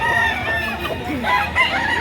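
A rooster for sale at a Saturday poultry market in Lipa City, Batangas, crows once nearby. The call is short and fairly loud.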